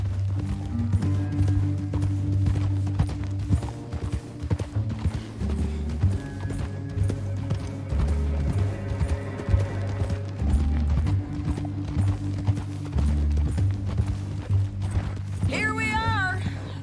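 Horse hooves clip-clop in a steady galloping rhythm over a musical backdrop in the video game Red Dead Redemption 2, with a brief whinny near the end.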